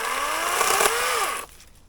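An electric Wild Badger chainsaw cuts through a log, its loud, steady buzzing whine dipping in pitch as the bar bites into the wood, then dropping off abruptly to quiet as the cut ends.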